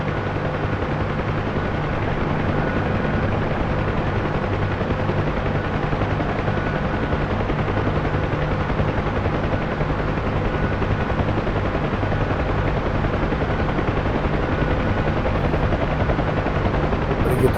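Steady, loud rotor and turbine drone of a UH-1H Huey helicopter in the DCS flight simulator, a continuous whine and thump held throughout as power is pulled, with no voices over it.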